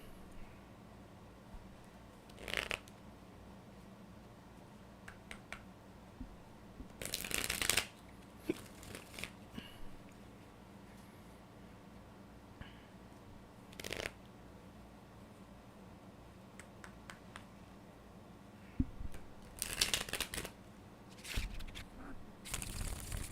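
Tarot cards being shuffled in quiet bursts of riffling and sliding, a few separate shuffles spaced over a low background hum, close and fairly soft with no talking.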